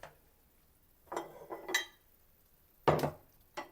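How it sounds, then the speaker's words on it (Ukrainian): Tomatoes and potatoes drop into a pot for a Transcarpathian green bean and potato stew, making a few separate clunks and clatters against the pot, with quiet pauses between them. "Додаю томати і додаю картоплю."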